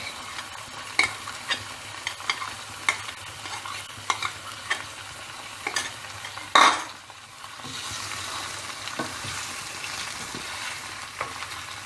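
Ginger garlic paste fries in hot oil for a chicken biryani, giving a steady soft sizzle broken by repeated stirring scrapes and one sharp utensil clank against the pot.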